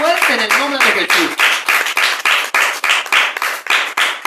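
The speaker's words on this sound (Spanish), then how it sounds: "Vamos a aplaudir al Señor fuerte en el nombre de Jesús." Loud rhythmic clapping from a church congregation during a prayer and intercession service, steady claps roughly every third of a second; a voice calls out over the first second before the clapping continues alone.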